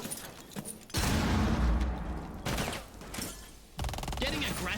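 Bursts of rapid automatic gunfire crackle through a competitive shooting video game match, loud and dense in several volleys with a short lull between them, mixed with game effects.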